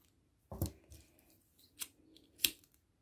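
Scissors snipping short the loose threads on a crochet piece: three or four crisp close cuts spaced about half a second to a second apart, quiet and without talk.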